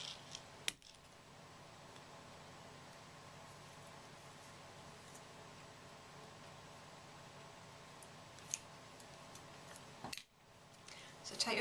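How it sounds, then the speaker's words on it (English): Scissors snip the ends off pipe cleaners in a quiet room: a few soft, isolated clicks spaced seconds apart over a steady low hiss. "If you've got small edges on your pipe cleaners, just trim a little bit off"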